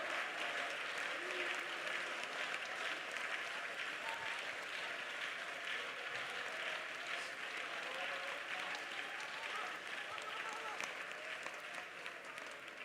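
The congregation at an IPC Prayer Centre Sunday church service claps hands together in a sustained, dense round of applause that holds steady throughout, with voices audible beneath the clapping.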